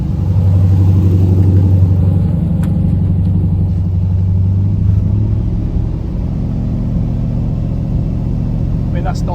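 Carbureted LS V8 swapped into a second-generation Pontiac Firebird idling at part throttle, a loud steady low rumble that eases slightly partway through, with no popping and no talk over it.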